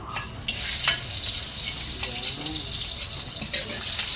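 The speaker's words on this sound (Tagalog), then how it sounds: "So, magigisa tayo ng bawang." Garlic sautés in a pan for adobo, a loud, close, continuous sizzle and hiss with a few stirring clatters.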